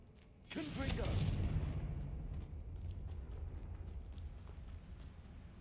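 A Confringo spell blast in Hogwarts Legacy lands as one sudden fiery whoosh-boom that swells loudly, then thins into a long rumbling, crackling tail that fades slowly.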